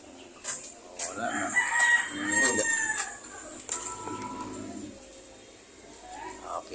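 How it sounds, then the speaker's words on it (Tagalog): Chickens cluck and a fighting rooster crows nearby, mixed with other farmyard bird calls while people talk in the background. "Tapos manok."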